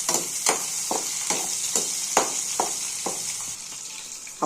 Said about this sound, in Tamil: அரைச்சி வச்ச பூண்டு போட்ட பிறகு பச்சை மிளகா நல்லா மிக்ஸ் பண்ணி விட்டுக்கணும்